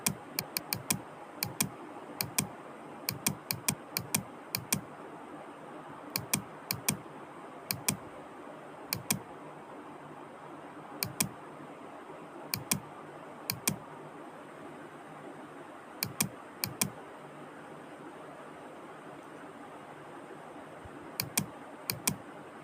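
Sparse bursts of quick key presses on a computer keyboard, close and crisp over a faint steady hiss, with pauses between runs of typing.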